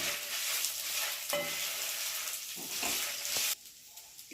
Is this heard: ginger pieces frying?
yes